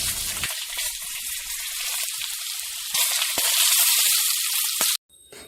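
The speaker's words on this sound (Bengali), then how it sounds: "বড়িগুলো ভাজার সময় গ্যাসের ফ্লেমটা হাই করে দেবেন" Lentil dumplings (bori) fry in hot oil over a high gas flame for a Bengali shukto, a bright steady sizzle that swells louder midway before cutting off abruptly.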